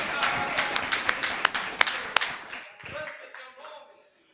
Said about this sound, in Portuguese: Quem é que pode dar uma salva de palmas ao Senhor? Bem bonito, bem forte.